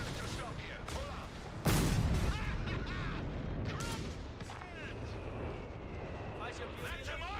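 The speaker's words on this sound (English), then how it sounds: "That's a mortar!" Mortar fire and explosions in the strategy video game Company of Heroes 3: a loud blast opens a stretch of booming impacts and scattered gunfire, with voices shouting over the battle noise.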